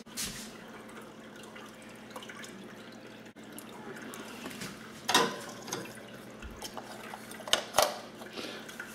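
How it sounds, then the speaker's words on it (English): Water poured to top up an AeroGarden hydroponic garden, a steady soft trickle with a few louder splashes and drips near the end, close by and without talk. "And now I'm also going to top up the water."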